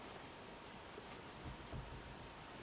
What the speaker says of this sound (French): le chant des cigales